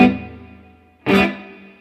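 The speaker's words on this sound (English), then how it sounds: "It actually sounds more like a plate reverb than a spring reverb." Electric guitar played through a Fender Bassbreaker 15 amp with its digital reverb: a sustained chord decays into a long reverb tail, then a second bright strum rings out, both loud and alone without talk.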